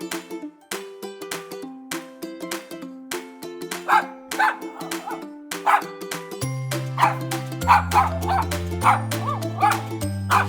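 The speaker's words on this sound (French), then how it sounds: "Que fait un chien?" A dog barks and yips in a series of short, bright calls over a bouncy, rhythmic music backing with a deep bass line.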